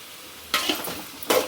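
Tomatoes frying and stirred in a pan for tomato chutney, with a low sizzle under two louder bursts of spatula scraping and stirring near the mic, the first long and the second short.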